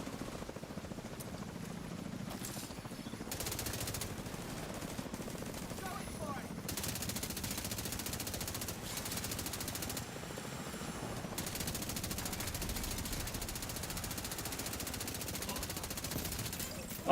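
A big-magazine assault rifle in The Division 2 fires in long continuous automatic strings, fairly faint and dense, with a steady rumbling background and short gaps between bursts.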